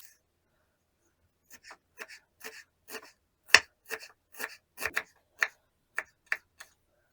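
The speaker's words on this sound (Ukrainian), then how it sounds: "Кріп нарізати дрібно." A knife finely chopping dill taps a cutting board in a string of sharp, close chops at an uneven pace, with quiet pauses between.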